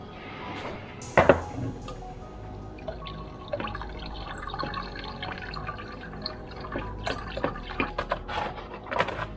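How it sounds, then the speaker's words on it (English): Vibrant red car paint for a Mustang GT500 front bumper being mixed in a container: wet liquid sloshes and drips, with a sharp clink early on and scattered small knocks and pours, fairly quiet and close. "So let's actually mix up the color and prepare that"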